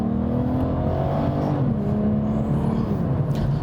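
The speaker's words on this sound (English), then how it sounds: "There is also a noise that you may be able to hear, which is not that lovely V12, but instead a bearing" An Aston Martin DB9's V12 engine drones steadily from inside the car, with a persistent whirring, humming tone from a failing bearing riding over the low rumble.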